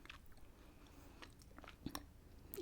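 Biting into a crunchy biscuit up close: sparse small crackles and clicks with one sharper crunch partway through, all quiet and without speech.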